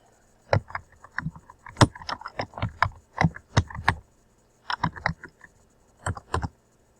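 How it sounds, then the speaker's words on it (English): Keys of a computer keyboard being typed in close, crisp bursts of rapid clicks, grouped into several short runs separated by brief pauses. "Turn off the bold, turn off the caps lock, and type the paragraph."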